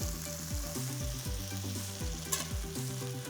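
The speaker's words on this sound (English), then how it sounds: "The reason why I'm shaking the pan is this way they don't stick." Scallops sizzle and fry in a pan being shaken, a steady close crackle with rhythmic sliding and rattling as the pan moves, no voices.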